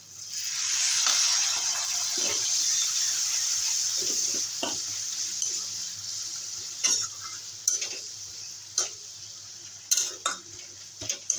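Spice water is poured into a cooking pan with pointed gourd, setting off a loud burst of sizzling that fades into a softer hiss, followed by occasional clinks of a utensil against the pan.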